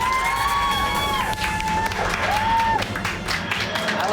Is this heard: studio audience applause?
yes